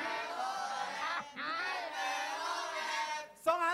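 A team shouts a group cheer yell together, loud sustained massed voices that dip briefly twice before a final sharp burst.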